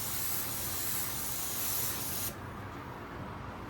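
Sealer is sprayed onto bare metal in one continuous close hiss that cuts off abruptly partway through, leaving quiet room noise.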